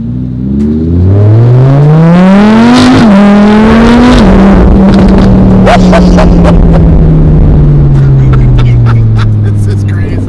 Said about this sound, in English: Custom titanium exhaust. AW Designs.